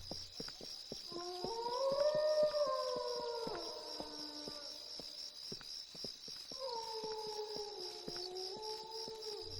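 A werewolf in the video game Bully howls at night in the woodland, two long wavering cries with a break between them, set against a steady high chorus of crickets.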